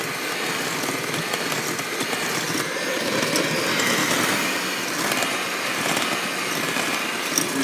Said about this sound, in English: We just need to stir this up with the electric beater here.